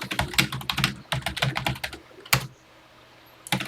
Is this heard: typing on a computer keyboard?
yes